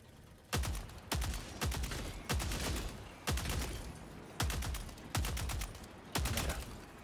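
Heavy-bullet Ducator rifle firing in a video game battle against robots: roughly nine loud, close single shots, evenly spaced with short gaps, each a sharp crack followed by a quick decaying boom, with no talk.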